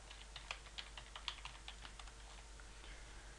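A password being typed on a computer keyboard: light, quick key clicks in an uneven run, close and fairly quiet over a steady low hum.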